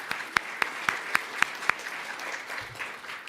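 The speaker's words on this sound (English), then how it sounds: "that's right, we can clap" Faint audience applause at a 2026 inauguration ceremony, with a handful of distinct claps over a soft background of scattered clapping that thins out toward the end.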